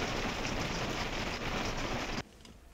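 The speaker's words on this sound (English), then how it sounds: "You can see the rain coming down." Steady rain falls at an overnight park-up in the Scottish Borders, a dense even hiss heard from inside a car that cuts off abruptly near the end, leaving quieter ambience.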